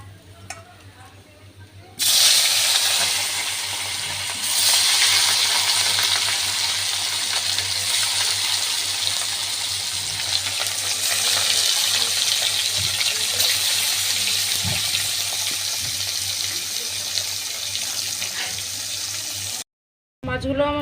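Rohu fish pieces frying in oil in a pan, a steady broad sizzle running close and continuous for most of the span, with faint clinks of a utensil and a brief drop-out near the end.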